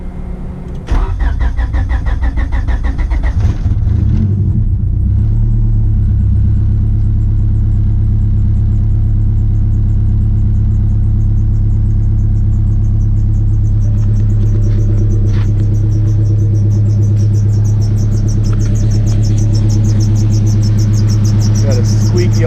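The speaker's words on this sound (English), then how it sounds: "Alternator belt, don't mind that." A turbocharged H2B-swapped EG hatch starts up, then idles loud and close with a steady rumble and a thin high whine from the alternator belt running on top.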